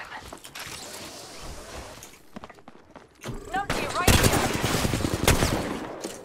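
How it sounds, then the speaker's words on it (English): Mastiff shotgun blasts from the Apex Legends video game, heavy booming shots in a rapid burst amid busy battle noise, with a second louder flurry of firing toward the end. "Just hitting some nasty Mastiff shots feels so good."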